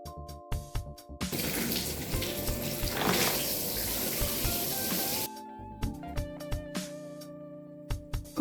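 Tap water runs steadily into a sink or basin for hair washing at home, a continuous splashing hiss lasting about four seconds, with brief knocks and handling sounds before and after.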